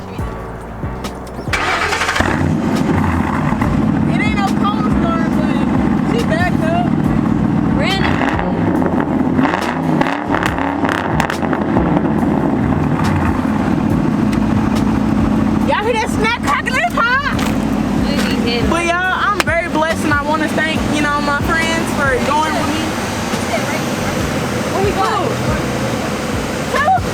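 A 2007 Ford Crown Victoria starts up on a cold day, and its engine settles into a loud, steady running rumble that lasts to the end, with voices talking over it.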